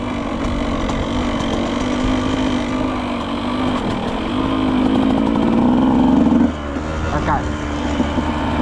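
A Husqvarna TE 125 motorcycle running under the rider, a loud steady engine drone with a rising pitch swell before easing off, while someone talks over it.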